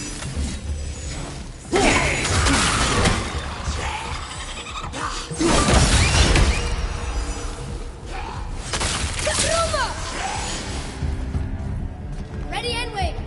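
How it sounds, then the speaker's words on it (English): Objects shattering in the God of War video game, heavy crashing smashes and clattering debris with mechanical clanks and thuds, loud and repeated across the stretch, with speech and game sounds mixed in. "I will never get tired of shattering things with this."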